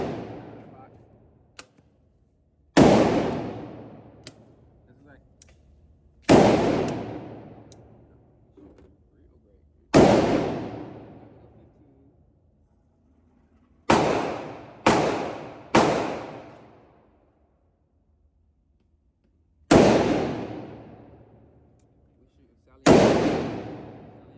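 Glock 30 pistol fired at an outdoor shooting range: eight sharp, loud reports spaced irregularly, a couple in quick pairs, each with a decaying echo tail and quiet gaps between.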